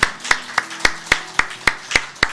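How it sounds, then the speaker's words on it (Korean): A congregation at a morning worship service claps in praise after a prayer, giving about nine sharp, evenly spaced claps in a steady unison rhythm with no voices over them. "주님께만 감사와 찬양의 박수 드리기 원합니다"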